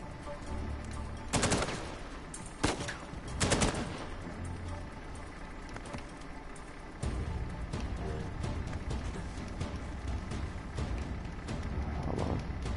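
Bursts of automatic gunfire in the Uncharted 4 video game, several loud volleys early on and then scattered shots under a steady roar of battle noise.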